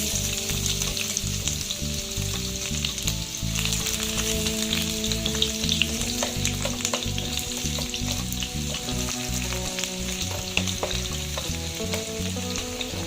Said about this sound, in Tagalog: Ayan, unahin natin lutuin ang ating ginger.